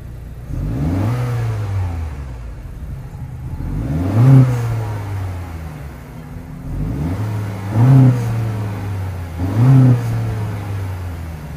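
A 2025 Honda CR-V EX with a 1.5-liter turbocharged four-cylinder and dual exhaust tips revs up four times in a row, each blip rising and falling back to a steady idle, close and clear.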